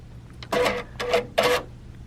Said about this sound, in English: you're going to hit that same button that you just pressed to bring the needle threader down